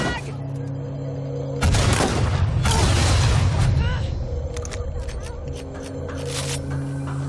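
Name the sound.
frag grenade explosion in Watch Dogs: Legion video game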